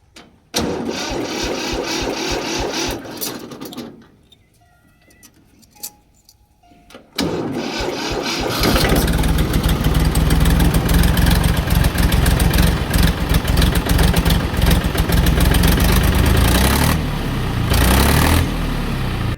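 A tractor engine cranks and catches after a quiet pause, then settles into a loud, steady diesel idle that rumbles on to the end.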